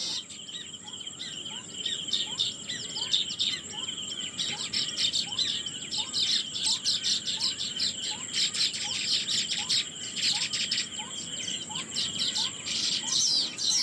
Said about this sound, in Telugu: ఆ పిచ్చుకలు చేసే శబ్దాలని కళ్ళు మూసుకొని ఒకసారి మనసారా ఆస్వాదించండి.